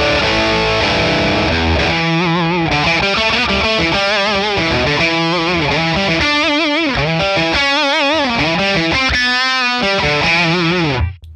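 A Stratocaster electric guitar runs through a Friedman Plex DI on its fat setting, giving a loud, thick, distorted tone as it plays a busy riff of rapid notes and bends before cutting off abruptly at the end.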